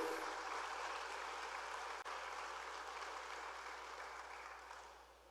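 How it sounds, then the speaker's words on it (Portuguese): Congregation in a church service applauding the Lord, a steady wash of many hands clapping together that holds for several seconds, then gradually fades out. "Isso, aplauda o Senhor."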